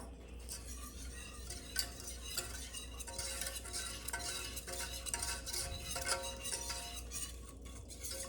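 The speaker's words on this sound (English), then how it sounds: "we're gonna start whisking that in" A whisk clicks and scrapes rapidly against a bowl while cream is beaten into a pecan pie bar mixture, a quick continuous rhythm heard up close.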